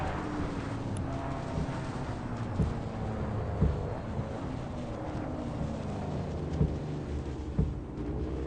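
Rain in the racing game Assetto Corsa during a VR drive on the Shuto expressway: a steady, dense hiss under a low engine drone, with a few faint thumps and no talking.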